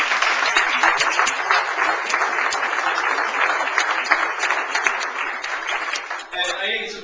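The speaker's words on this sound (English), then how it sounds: "I just want to give them a round of applause and ask you to do the" A room full of business people claps in a sustained, dense round of applause that runs almost the entire time, then thins out near the end as a voice returns.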